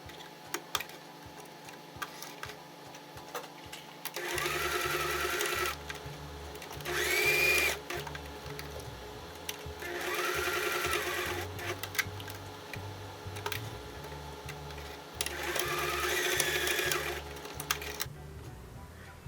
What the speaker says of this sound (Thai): เราจะทำการเย็บเป็นสี่เหลี่ยมนะคะ บริเวณนี้ค่ะ